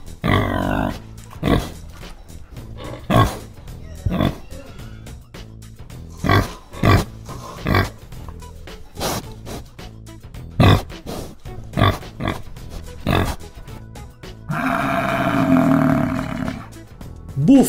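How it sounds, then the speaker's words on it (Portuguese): A pig grunts and snorts in a string of short, loud, evenly spaced bursts, close by, ending with a longer rough squeal. "Porco. O porco é um animal mamífero que tem 4 patas"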